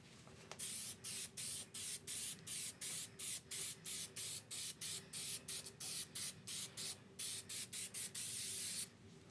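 Spray coating hisses onto rust on the fender of a 1965 Austin-Healey 3000, a third coat applied in roughly twenty short, evenly spaced bursts, close and loud.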